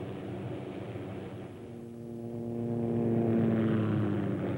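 An OH-6 light observation helicopter, a small Army LOH, drones steadily with a tonal turbine and rotor hum that swells louder toward the end. No voices are heard.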